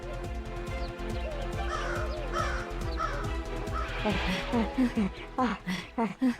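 An animated cartoon crow caws over and over, its rough, repeated calls coming close and loud and growing more rapid and choppy toward the end.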